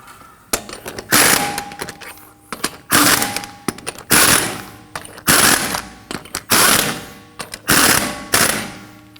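Loud bursts from an impact wrench snugging down the wheel lug nuts on a 2015-2022 Chevrolet Colorado, about eight rattling runs in a row with short pauses between them, close up with no talk.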